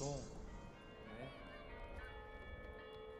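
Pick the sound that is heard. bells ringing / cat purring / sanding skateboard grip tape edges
bells ringing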